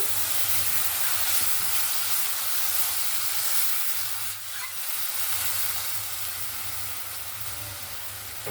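Water poured into a pan of spices fried for several minutes, erupting in a loud, continuous sizzle and steamy hiss that holds steady throughout, briefly dipping midway, with no talking.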